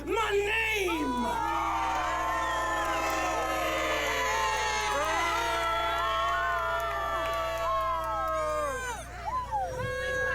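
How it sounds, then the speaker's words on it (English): A loud crowd at a live wrestling show cheers and whoops continuously, with many shouting voices and high yells layered in a dense, sustained roar that fades slightly at the end. "you jump to your feet and you cheer my name"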